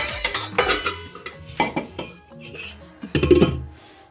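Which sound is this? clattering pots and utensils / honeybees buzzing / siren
clattering pots and utensils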